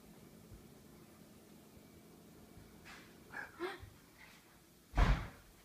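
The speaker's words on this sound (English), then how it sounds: "That was loud. Is that the door?" A loud door slam bursts out near the end, heard at home, after a few softer knocks and thuds over low background hiss.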